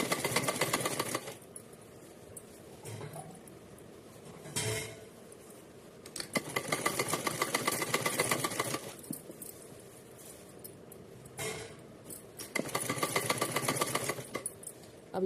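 Sewing machine stitching lace onto a fabric edge, close bursts of rapid mechanical whirring that start and stop in several runs with quiet pauses between.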